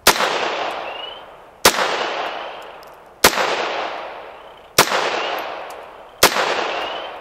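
Five loud, sharp handgun shots fired at home self-defense training, evenly spaced about a second and a half apart, each followed by a short ringing decay, with no talking between them.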